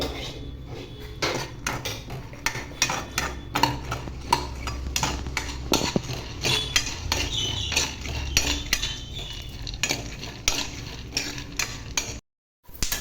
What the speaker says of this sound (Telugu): దీనిలో కొంచెం ఆయిల్ వేసుకొని పల్లీలు అయితే వేయించుకోవాలి